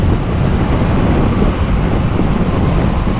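Loud, steady wind roar buffets the microphone while riding a 2024 Kawasaki Eliminator 500 naked motorcycle, a dense continuous rush with no talking.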